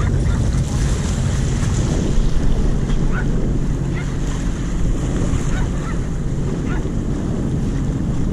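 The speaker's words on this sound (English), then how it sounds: "a little bit of a first-hand perspective from my first ride on my 2019 Fish Pro" A 2019 Sea-Doo Fish Pro personal watercraft running across Tampa Bay, with a constant loud rush of engine, spray and wind buffeting the microphone, steady throughout without pauses.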